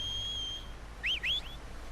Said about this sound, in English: silba tu caballo